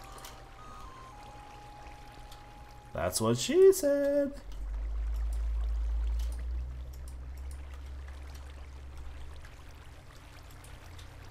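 Flowing water in the blocky building game Blockville gives a low, steady wash throughout, briefly overlaid by a short spoken remark.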